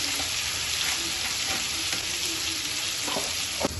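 Tomatoes and green chillies fry in hot oil for masala biryani, giving a steady, close sizzle throughout with a few stirring clatters near the end and no voices.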